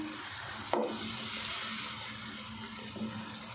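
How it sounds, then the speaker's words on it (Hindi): A splash of water pours into frying spice paste, followed by a continuous hissing sizzle with a low hum underneath, and a small second splash near the end. "ज़रा सा पानी डाल के मसाले को अच्छे से भून लेते हैं।"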